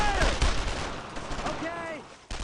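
Gunfire in the World War II shooter Brothers in Arms: Road to Hill 30 cracks in several loud close shots over a short burst, with a shouted voice in the mix.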